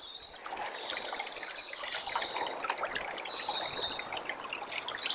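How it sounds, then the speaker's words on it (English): Shallow water of the River Beck trickles steadily over stones near the source, close and continuous with fine bright splashing and no voices. "The sound of trickling water."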